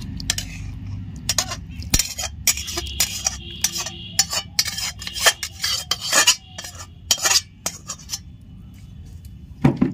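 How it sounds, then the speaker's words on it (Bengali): Jackfruit curry being poured and scraped into a biryani pot, with rapid metal spoon clinks and scraping against the cookware in busy, close bursts over a low background hum, no talking. "তরকারিটা আমি ঢেলে দিচ্ছি।"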